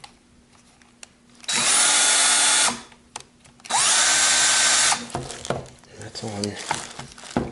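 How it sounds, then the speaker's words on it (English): A Craftsman V20 cordless drill runs in two loud bursts of about a second each with a whining motor tone, separated by a brief pause, followed by quieter handling noises and a voice speaking nearby. "Let's see what kind of feel we get out of the drill."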